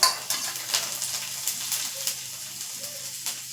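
Chopped garlic fries with asafoetida in a pan over low flame, giving a soft continuous sizzle with light clinks and scrapes of a utensil against metal now and then, fairly quiet and without speech.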